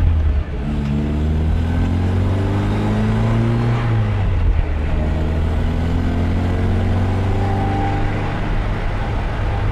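A 1966 MGB GT sports car drives along with a steady, loud engine drone, rising in pitch through a gear, easing briefly as it shifts, then pulling again.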